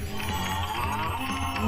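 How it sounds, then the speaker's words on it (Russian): A cow moos in the horror video game Cataplexy, a loud, drawn-out low bellow in a dark scene, with no one talking over it. "Вдруг во тьме разнеслось громкое мычание коровы."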